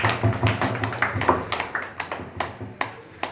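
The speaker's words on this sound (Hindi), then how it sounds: "एक बार संवेद स्वर में तालियां बजाइए दीपक जी के लिए।" An audience at a Hindu New Year cultural event in Kanpur applauds, a run of sharp individual claps in an uneven rhythm, fairly close, without talk.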